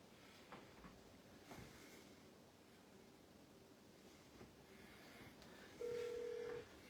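A few short telephone keypad tones and a steady dial tone are heard as a call is placed for a phone-in interview on a fantasy football draft show, faint over quiet background rustle.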